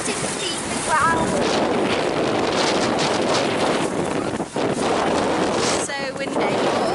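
Wind gusts batter the microphone outdoors on a sunny day in Manchester, a constant loud rushing buffet with brief dips, while people speak now and then.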